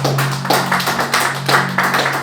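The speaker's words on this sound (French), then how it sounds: "Acclamons le Seigneur." Church congregation clapping to acclaim the Lord, a loud rhythmic round of hand claps in a steady repeating beat over a sustained background hum.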